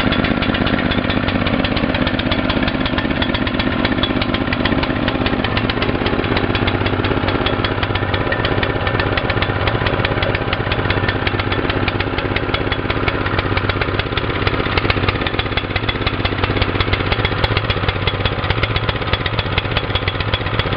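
A Hyundai T-1200 7 hp walk-behind tractor's small petrol engine runs steadily at close range, a loud, continuous, rapidly pulsing chug with no break over twenty seconds.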